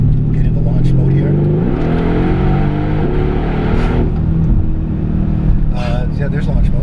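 A Renntech Stage 2 tuned Mercedes-Benz E63 AMG S with 690 hp revs in launch mode, a loud, close engine roar rising in pitch and then holding steady and dropping back, with a person talking over it.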